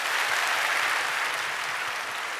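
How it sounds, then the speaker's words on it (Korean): A church congregation at a Sunday service claps for four newly baptized members, a loud, even wash of applause filling the room throughout. "우리 박수로 축복해 주시기 바랍니다"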